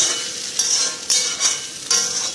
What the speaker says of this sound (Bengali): আলু ভাজাটা আস্তে আস্তে হইতে থাক